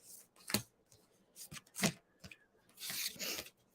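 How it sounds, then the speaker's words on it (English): Tarot cards shuffled by hand during a live reading session, heard as several separate close riffles and soft papery rubs in short bursts, with a longer rustling run near the end and no speech over it. "I'm not the best at shuffling cards sometimes."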